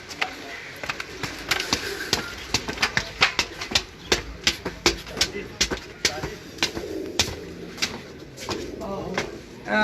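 A flock of pigeons gathering coos and flutters close by, with sharp repeated wing claps and clicks throughout while people talk in the background.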